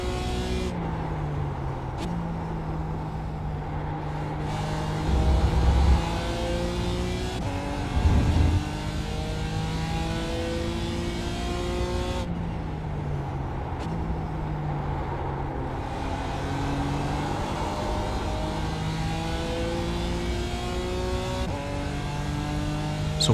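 Race car engine in iRacing at Watkins Glen during a Falken Tyre Challenge race, revving hard through repeated gear changes, each upshift dropping the pitch before it climbs again, loud and continuous throughout.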